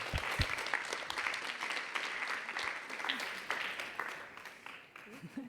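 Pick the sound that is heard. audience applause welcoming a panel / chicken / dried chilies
audience applause welcoming a panel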